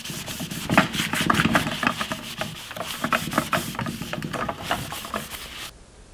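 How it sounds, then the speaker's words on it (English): A clean rag wipes excess walnut stain off a wooden picture frame in quick, repeated rubbing strokes, each a close, scratchy swish, ending abruptly in near silence. "now I'm going to wipe off all of the excess with a clean rag"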